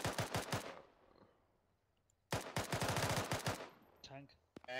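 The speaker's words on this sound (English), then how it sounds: "can anybody watch my tracers for the machine gun?" Machine gun fire in the Arma 3 military shooter game: two rapid bursts of automatic shots separated by a quiet gap, loud and close, with a voice speaking briefly at the end.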